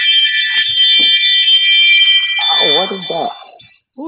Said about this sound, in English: That was my Ring doorbell.